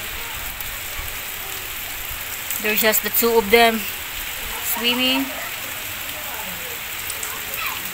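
Hard rain pours steadily over an outdoor resort swimming pool where children swim, a continuous hiss throughout, with a person talking briefly in the middle.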